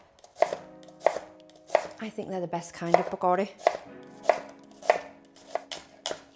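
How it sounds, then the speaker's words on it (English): A knife chops onions into half moons on a board for onion bhaji pakora, giving crisp, evenly spaced chops at a steady pace. A person talks briefly partway through. "Chopping all these onions might require a pair of goggles over your eyes."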